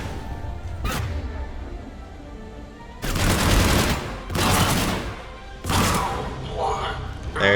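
Gunfire in Mass Effect 3 Legendary Edition, during the Omega finale, comes as three loud sustained bursts of rapid shots over a steady game soundscape.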